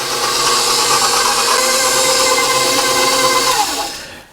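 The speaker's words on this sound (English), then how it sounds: "I've installed the dough hook on the mixer, and on a low speed I'm just going to mix that till our dough comes together" A stand mixer with a dough hook running at low speed, mixing pizza dough. It gives a loud, steady motor whir with a churning hum, then winds down and stops near the end, with no talking.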